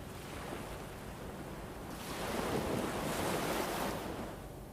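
Ocean waves wash in a steady broadband rush that swells louder midway, with wind noise blowing across the microphone.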